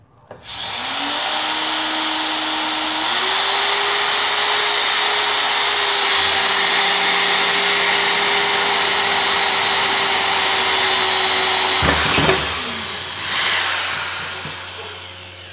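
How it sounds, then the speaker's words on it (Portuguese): A Bosch GSR 7-14 E drill whines loudly as it bores into 100 by 50 steel tubing, a sustained close motor drone rising in pitch as it speeds up, then cutting off abruptly near the end. "Vamos testar primeiro aqui no 100 por 50, na 14."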